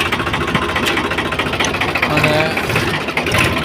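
A Massey tractor engine runs steadily at a mid-pitched idle-like chug while reversing on a farm field at night to line up with a loaded trolley, close and loud, with a voice briefly speaking over it.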